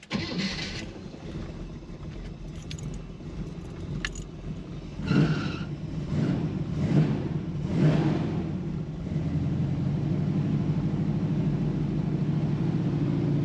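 A Chevrolet Camaro, newly fitted with a Holley Sniper fuel injection, cranks over and catches, then revs a few times before settling into a steady, close idle.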